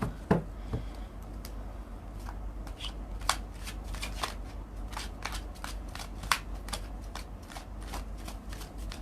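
A deck of tarot cards is shuffled close up in a continuous, fast riffling patter of crisp flicks and snaps, with no talking.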